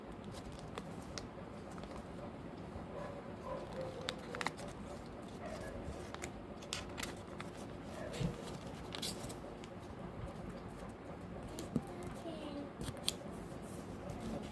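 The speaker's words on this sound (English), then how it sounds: "Now the remaining part, make a fold from inside." Craft paper is folded for a Santa Claus decoration, giving soft crinkling, rustling and occasional crisp creasing snaps that run steadily nearby.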